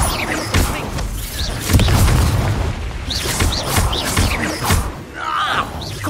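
Confringo blasting spells go off in the video game Hogwarts Legacy, giving a string of booming explosions with thuds and crashes, some near and some farther off, and a voice briefly speaks among them.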